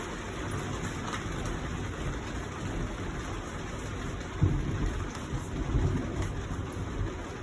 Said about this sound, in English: I hear the thunder.